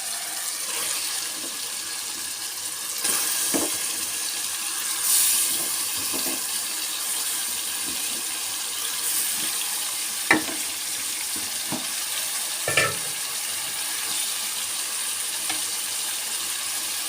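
Beef pieces sizzling as they fry in a pan, a steady hiss of frying with occasional stirring clatters and brief louder scrapes, close and continuous throughout.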